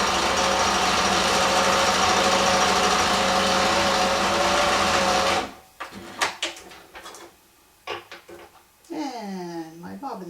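A sewing machine stitching a stuffed fabric pumpkin runs with a loud, steady, close mechanical whir for several seconds, then stops abruptly. Scattered clicks and handling noises follow, then someone speaks at the end.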